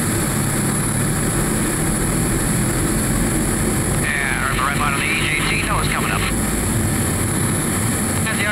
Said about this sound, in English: And we're on roll. Looking for about 60 knots on the liftoff out here.